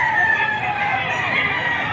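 Roosters and chickens at a poultry market in Padre Garcia, Batangas, crow and cluck in a busy, continuous din, with a drawn-out crow standing out over the crowded background.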